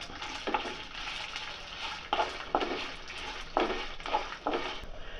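Coriander, cumin, fenugreek and mustard seeds dry roasting in a pan, a soft continuous crackle broken by about five scraping bursts as the seeds are stirred.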